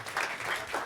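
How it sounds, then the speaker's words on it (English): A short burst of audience applause for panelists on stage at a conference, dense steady clapping for under a second. "Let's give a hand of applause to the panelists"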